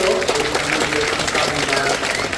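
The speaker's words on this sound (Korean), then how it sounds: "그래서 큰 박수로" A congregation claps at a Korean church thanksgiving service honoring a retiring pastor and installing a new one, with dense, steady applause mixed with voices.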